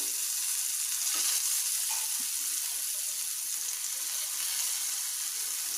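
Paneer frying in a pan gives off a steady, close hiss of sizzling oil that holds even throughout.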